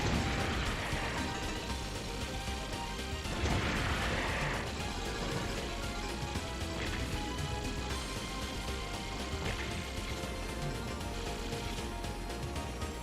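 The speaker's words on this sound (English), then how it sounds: "I'm gonna just use my bombs here." Bombs going off in the Mushihimesama shoot-'em-up arcade game: repeated dull blasts surge through a dense, constant wash of game noise, each burst swelling briefly before fading back into the mix.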